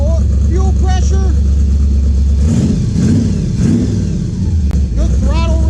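A 1931 Ford hot rod coupe engine idles loudly and close by with a deep steady rumble, then climbs into a couple of throttle revs before settling again, with a voice speaking over it.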